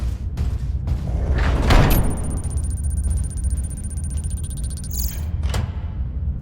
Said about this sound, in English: Like that door closed felt pretty good, but then afterwards, it's kind of gone.